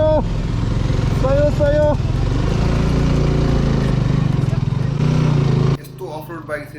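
An off-road motorcycle engine, a loaded double-load bike ridden on a snowy mountain trail to Laprak, drones loud and close with a steady throbbing idle, then cuts off abruptly near the end; a voice speaks briefly over it.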